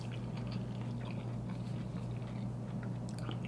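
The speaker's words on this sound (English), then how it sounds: "Sorry, I'm chewing my ass off." Close-up chewing of a taco with jalapeno ranch, soft wet mastication and small crunchy bites repeating steadily over a low constant background hum, no talking.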